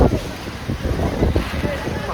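Strong gusting wind buffets the microphone near Nippli Falls close to Jog Falls, a loud, continuous low roar with irregular bursts throughout.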